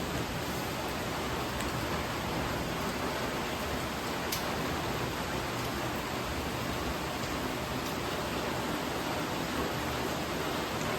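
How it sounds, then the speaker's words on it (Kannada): Heavy rain pours down in a dense, continuous hiss at an even level, with nothing else standing out. "ಫುಲ್ಲು ಮಳೆ ಬರ್ತೈತೆ."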